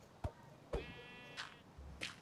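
A goat in a block-building video game bleats a few times, short and faint, among sharp clicks and taps in quiet surroundings.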